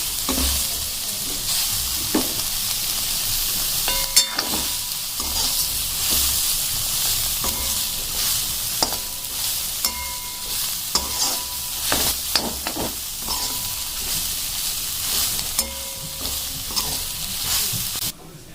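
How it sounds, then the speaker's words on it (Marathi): Soybean chunks fry and are stirred in a pan, a steady loud sizzle running throughout with scraping spoon strokes and clicks scattered over it. "अशा प्रकारे आता इथं आपण सोयाबीन फ्राय करून घेतले"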